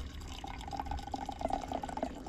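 Hot tea poured from a mini thermos into a small cup outdoors in cold weather, a steady trickling splash with bubbly liquid tones, close and moderately loud, lasting a couple of seconds with no talking.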